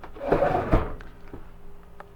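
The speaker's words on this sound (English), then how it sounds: "All these drawers we're going to take out today." A wooden drawer slides out of a 1976 Shasta travel trailer, a brief rumbling scrape followed by a knock and faint rattles in a quiet interior.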